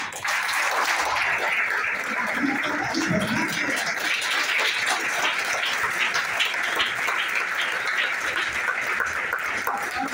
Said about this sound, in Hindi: आप लोग के लिए जोरदार तालियां होना चाहिए।